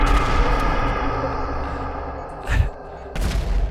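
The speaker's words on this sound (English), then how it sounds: "All the gunfire outside." Gunfire outside a building in the video game GTA 5 roleplay: a steady rumble of distant shooting with two sharper, louder bursts near the end, echoing.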